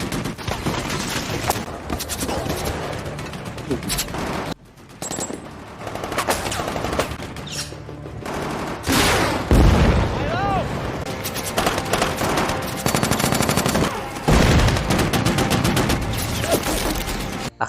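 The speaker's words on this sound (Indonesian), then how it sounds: "Pertempuran pun semakin hebat." Intense battle from a war film about a fight against terrorists, dense machine-gun fire and rapid shots with booming explosions, loud and continuous, while someone narrates over it.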